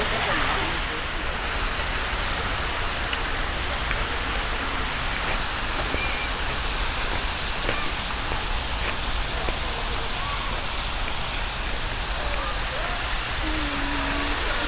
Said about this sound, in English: And this is what they call the aerated pool.